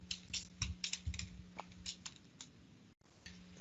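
A username and password being typed on a computer keyboard, quick irregular keystrokes clicking close by with a brief pause near the end.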